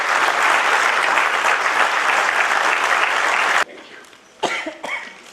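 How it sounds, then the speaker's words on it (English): A hall audience gives a warm welcome to a speaker with loud, sustained applause for about three and a half seconds, which stops abruptly and leaves a quiet room broken by a few coughs and throat clearing. "Big round of applause."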